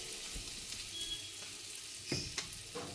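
Chicken pieces sizzling as they go into hot butter in a pan for butter chicken, a steady low fry hiss with a few sharper crackles and pops near the end, no voices.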